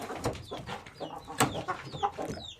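Young Arab-breed roosters cluck and call in short irregular bursts, fairly close and lively, with a few sharper squawks mixed in and no talking.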